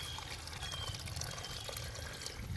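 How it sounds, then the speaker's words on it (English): Natural spring water flows steadily out of the ground at the edge of a Massachusetts wood line, a continuous close pouring trickle with no voices. "there's the water coming out"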